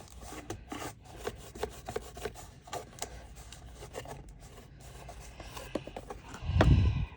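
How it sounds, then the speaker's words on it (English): Rubbing strokes as a paper gift box fold is burnished flat, a series of soft scraping swipes in an uneven rhythm, close and fairly quiet, ending with a louder thump. "I will just burnish that in here like that."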